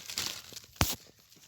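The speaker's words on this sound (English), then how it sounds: "going to cut off these stems like that" Tree stems being cut off, with a single sharp snap or crunch near the middle and softer rustling and crinkling of leaves before and after.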